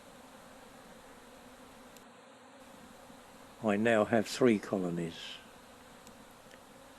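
A dense, steady buzz of many honey bees swarming into a new hive, humming throughout, with a person speaking briefly over it midway.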